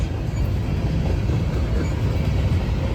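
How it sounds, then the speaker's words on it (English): A Norfolk Southern 51Q freight train of over 120 cars rolls past in Gaffney, South Carolina, a steady low rumble of wheels and rail noise, continuous and close, with no talk. "Train about over 120 cars."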